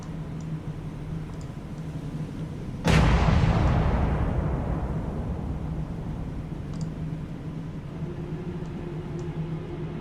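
Naval combat in the video game War on the Sea, with one sudden loud blast of gunfire that rolls off into a long decaying rumble over a steady low engine hum.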